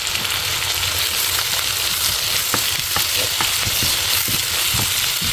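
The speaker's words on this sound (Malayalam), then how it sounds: "ഉള്ളി വഴട്ടാം." Onions sautéing in hot oil in a home kitchen for a coconut curry, with a steady loud sizzle throughout and occasional sharp clicks and scrapes of a spoon stirring in the pan.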